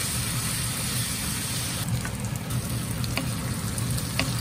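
Pork and garlic shoots stir-frying in a pan with soy sauce, giving a dense, steady sizzle close up and a few light scrapes of the spatula, with no talking.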